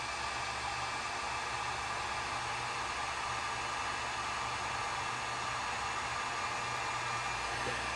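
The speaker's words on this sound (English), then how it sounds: "Get my heat gun ready." A craft heat gun blows a steady, unbroken stream of hot air close by while a Christmas card is made, a constant hiss that holds evenly for the whole stretch.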